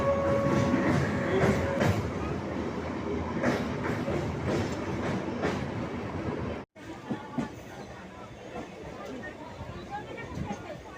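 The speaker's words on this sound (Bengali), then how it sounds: "ওই দিকে আরেকটা লাইনে দেখুন ট্রেন যাচ্ছে" A train rolls past on a nearby line, a steady rumbling clatter with rhythmic wheel clicks heard from inside another moving train, with a sudden brief dropout before the noise resumes more faintly.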